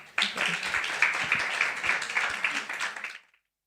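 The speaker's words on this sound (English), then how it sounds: "So give them a round of applause." A conference audience at the POLITICO Speakeasy, GLOBSEC Forum 2026, breaks into brisk applause, a steady wash of many hands clapping for about three seconds before it stops abruptly.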